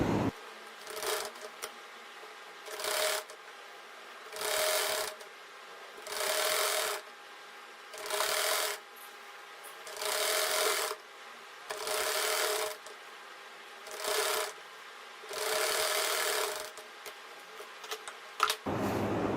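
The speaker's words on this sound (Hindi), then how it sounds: "अब गले के फ्रंट साइड को और बैक साइड की पट्टी को ऊपर रखकर हम सिलाई लगाकर कंप्लीट करेंगे" A sewing machine stitches the neck of a shirt blouse in about nine even bursts of whirring, each a second or two long, separated by short pauses with faint handling of fabric.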